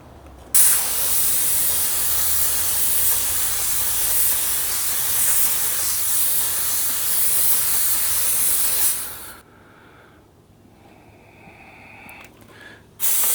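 A paint spray gun at 7 psi with its fan wide open lays a coat on a car body panel. A loud, steady close hiss runs about nine seconds, then cuts off to quiet.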